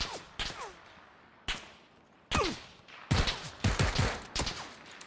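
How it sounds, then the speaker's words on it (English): Gunfire in a video game, with short bursts of sharp shots separated by brief pauses and growing denser toward the end, loud and close, with no talk over it. "shooting at me."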